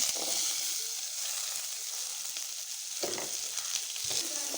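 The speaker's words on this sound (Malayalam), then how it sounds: "ചട്ടി ചൂടായതിനു ശേഷം ചീരുള്ളി അതിലേക്ക് ഇട്ട് കൊടുക്കുക" Shallots fry in coconut oil in a hot pan, a steady bright sizzle running throughout with a few soft stirring scrapes breaking in near the end.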